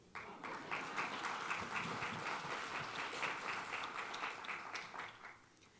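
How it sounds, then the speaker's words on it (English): Steady applause from a symposium audience, a dense patter of many hands clapping at an even level for several seconds before thinning at the end. "Could you please applaud the audience?"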